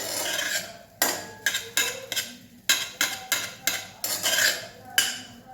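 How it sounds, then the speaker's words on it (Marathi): Semolina roasts in a pan while a spoon stirs it, giving about a dozen close, sharp scraping strokes against the metal in an uneven rhythm, with no talking. "हा रवा मध्ये मध्ये आपल्याला असा हलवून घ्यायचा आहे"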